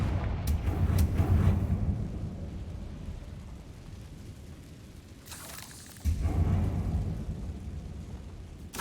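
A Confringo fire spell goes off in Hogwarts Legacy as a series of deep, rumbling booms. A heavy low roar swells, fades and then surges again with a fresh blast, with no talking.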